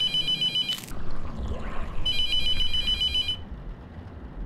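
A telephone rings inside the horror game The Mortuary Assistant, two clear electronic ring bursts separated by a pause over a low ambient background.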